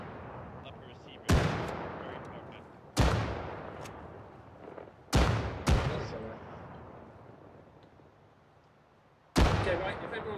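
Rifle shots crack loudly on a firing range in the military game ArmA 3. Five separate reports come at irregular intervals, each followed by a long echoing decay, with quiet stretches between them.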